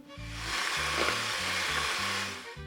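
An electric hand mixer with whisk beaters whirs steadily as it beats sugar and eggs, a continuous close hum and swish under soft background music.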